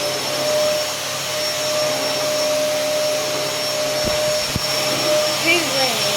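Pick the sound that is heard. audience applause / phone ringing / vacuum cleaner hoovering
vacuum cleaner hoovering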